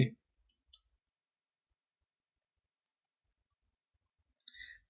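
A computer mouse gives two quick, faint clicks close together, then a brief small burst of clicks near the end. Long silence separates them.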